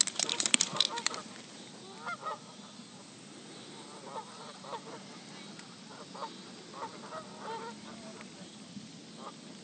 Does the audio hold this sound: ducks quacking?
yes